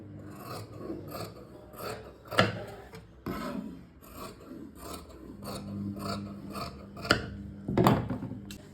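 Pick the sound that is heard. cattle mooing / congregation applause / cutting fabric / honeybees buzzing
cutting fabric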